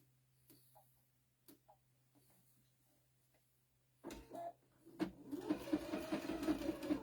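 Sewing machine with a walking foot stitching across a flour towel, starting after a few quiet clicks and then running in a steady, close mechanical chatter of rapid stitches.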